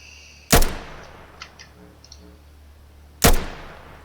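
A gun fires in burst mode in a video game: two loud, sharp bursts of gunfire roughly three seconds apart, with faint mechanical clicks and tones in between.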